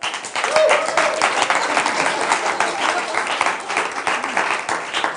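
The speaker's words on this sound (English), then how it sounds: "A round of applause for Mr. Luke McGregor." A Melbourne studio audience applauds Luke McGregor as he returns to the desk, with dense sustained clapping and crowd noise filling several seconds at steady loudness.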